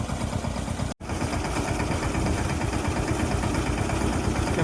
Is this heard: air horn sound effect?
no